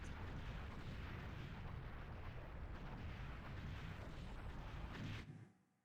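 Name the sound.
explosion in the video game Star Fox 64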